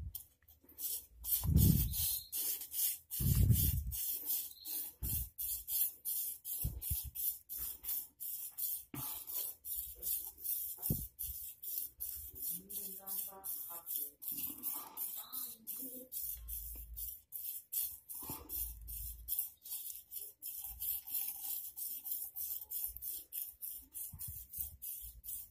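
A dull razor blade rubbed back and forth on a sharpening surface, giving repeated scraping strokes in a steady rhythm, close and fairly clear, with a few heavier knocks near the start.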